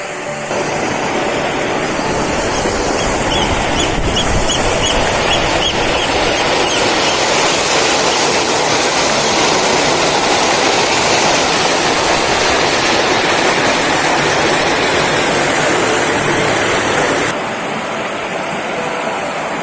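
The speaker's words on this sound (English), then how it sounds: "Lots of little cascades." Small cascades tumbling along a stream in County Durham, a constant, loud rushing of water heard up close, steady and unbroken before easing slightly near the end.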